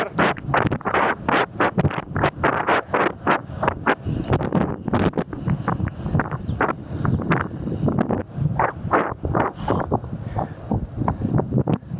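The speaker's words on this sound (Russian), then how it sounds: "Нифига себе ветер!" Strong wind buffets the microphone of a cyclist riding at speed on a long road ride, a loud continuous roar with gusty pulses throughout.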